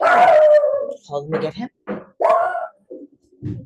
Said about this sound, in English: Oh, and that's my dog.